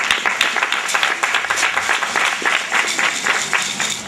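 Audience at an agency opening ceremony claps steadily and fairly loudly, a dense patter of many hands with faint crowd murmur underneath.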